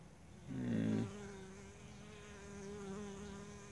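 Honey bees buzzing at a hive entrance as foragers carry in pollen, a steady low hum that swells loudly for a moment as bees pass close, then settles into a fainter continuous drone.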